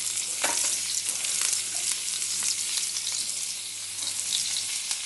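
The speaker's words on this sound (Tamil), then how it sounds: "பேனில் எண்ணெய் ஊற்றி காஞ்சிருச்சு. இப்போ நான் இந்த பொடியாக நறுக்கிய பூண்டை போடுறேன்," Chopped garlic and ginger hiss and crackle steadily in hot oil in a pan, a dense continuous sizzle with occasional stirring pops, loud and close with no talking.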